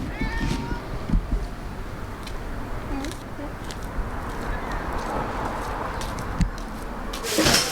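A cat meows a few times near the start at a teppanyaki eatery, then quieter mews follow amid background chatter and passing traffic.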